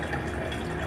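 Free drinking water pours steadily from a tap into a container in Saudi Arabia, a dense continuous splashing rush, close and moderately loud, with no talk.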